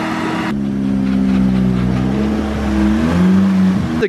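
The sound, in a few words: Nissan Sileighty car engine running and revving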